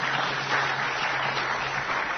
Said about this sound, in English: Very muted applause for that proposition